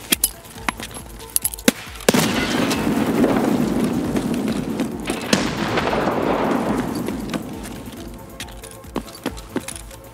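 A hand grenade explosion in the shooter game Escape from Tarkov: a sudden loud blast at about two seconds, with a long rumbling, crackling decay fading over several seconds among scattered sharp in-game clicks and pops.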